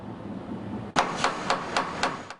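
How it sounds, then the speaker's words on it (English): Hammers striking boards going up over storefront windows of San Francisco businesses, six sharp evenly spaced blows after a stretch of outdoor background noise. "the sound of hammers and boards going up on the windows of businesses and storefronts"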